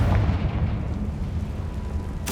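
A Confringo fire spell in Hogwarts Legacy bursts into a deep, rumbling explosion that booms loudly and then fades over a couple of seconds, heard alone without talk.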